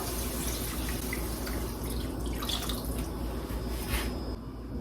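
Water running steadily from a tap into a pot for cooking, a continuous gentle splash with a few brighter drips toward the end, close and moderately quiet.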